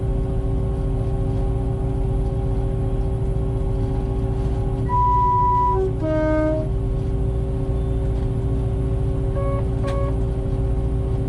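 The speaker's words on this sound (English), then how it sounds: "That sound you've just heard is the driver's vigilance device, a modern-day dead man's handle." Inside a train cab on the Scarborough to York line, the driver's vigilance device sounds a short tonal alarm over the constant loud rumble of the train, with a second brief beep a few seconds later.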